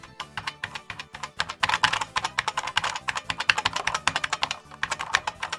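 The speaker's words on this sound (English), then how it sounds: "But here's a nice IBM keyboard." Rapid typing on a metal IBM keyboard with mechanical switches, a dense, steady clatter of sharp key strikes in close, busy bursts with no talking.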